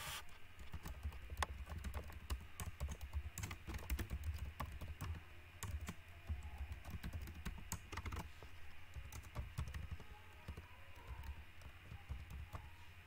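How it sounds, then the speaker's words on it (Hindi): Rapid, faint clicking of a computer keyboard as a login ID and password are typed, steady patter of keystrokes over low background hum with no talk. "यहाँ पर आप अपना login ID and password enter करेंगे।"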